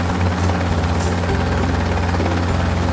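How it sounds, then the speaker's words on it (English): A helicopter's loud, throbbing rotor drone holds steady and close, a continuous pulsing whir with a buzzing engine tone. "Look at the helicopter fly away."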